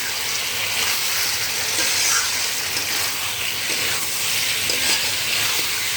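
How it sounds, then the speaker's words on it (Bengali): Steady sizzling of ground spice paste frying in a pan for chicken, with scraping and stirring throughout; no one speaks. "সব একসঙ্গে নাড়িয়ে নিচ্ছি"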